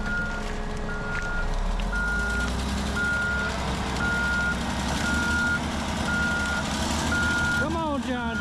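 A John Deere machine backs up at a wood recycling yard, its reversing alarm beeping in a steady evenly spaced series over a loud continuous engine rumble.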